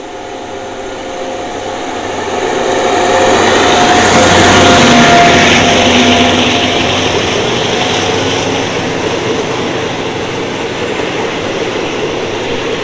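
Train 352 departing Salaya station rumbles and rolls steadily nearby, a broad roar swelling then easing slightly, with faint tonal squeals, no voices.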